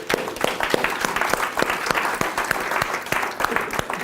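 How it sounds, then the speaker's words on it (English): Audience at a WordPress website workshop session breaking into dense, steady clapping, a close and lively round of applause that continues evenly throughout with many sharp individual claps. "first of all, give Joey a round of applause."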